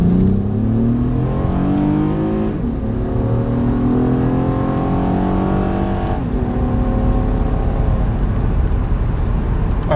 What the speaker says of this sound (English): running through the gears a little bit with the paddles